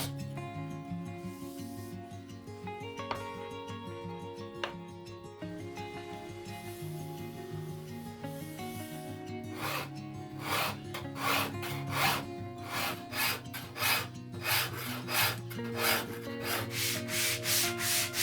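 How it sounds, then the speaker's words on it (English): Steady rubbing strokes of sandpaper on a wooden guitar neck, shaping it to a C profile for a one-off semi-hollow guitar; rhythmic, close passes that become quicker and more pronounced in the second half. "sand it to a perfect C-shaped profile"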